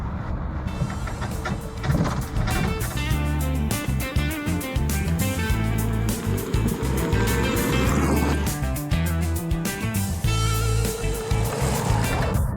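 Loud cabin noise inside a Soviet Autokam 2160 fiberglass car with a 4-speed gearbox, driving over a bumpy road: a continuous engine drone and rattles with shifting pitch, fairly close and sustained throughout.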